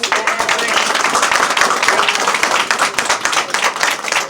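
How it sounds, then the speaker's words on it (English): An audience claps for children at an MVP awards gathering, a dense, steady patter of many hands sustained throughout, fairly close and loud. "let's give these kiddos another round of applause"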